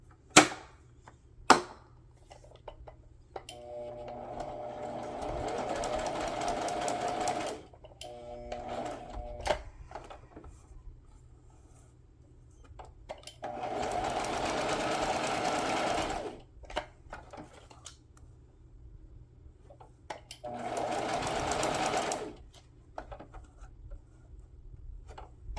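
A sewing machine stitches fabric scraps and lace in three separate runs of steady whirring, each a few seconds long, with quiet gaps and a few sharp clicks and knocks between them.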